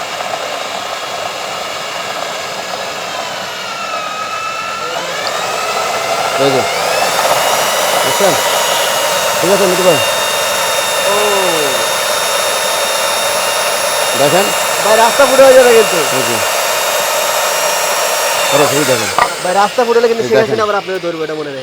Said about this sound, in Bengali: এটা হচ্ছে হ্যান্ড কোর কাটার মেশিন